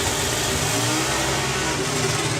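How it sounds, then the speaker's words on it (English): Drag racing car at the FIA/FIM Euro Finals, a loud, dense engine roar sustained at high throttle through the whole stretch, close and unbroken, with no clear drop audible before it ends. "You can hear the throttle drop."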